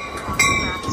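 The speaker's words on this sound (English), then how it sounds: "here comes Amtrak San Joaquin train 718 to Bakersfield" Amtrak San Joaquin passenger train 718 rolls past close by at Emeryville station, California, with a rumbling, rattling roar and a brief high tonal squeal partway through.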